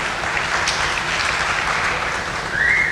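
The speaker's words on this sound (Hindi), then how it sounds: "ये तो इस पे तो ताली बजा ले पहले।" An audience at an interview event claps in a steady, dense patter of applause that swells slightly toward the end, with no talking over it.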